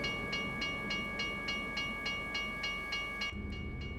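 A short train passing in American Truck Simulator, with steady rhythmic clickety-clack of wheels over rail joints and a sustained tonal whine, loud and close, cutting off abruptly near the end.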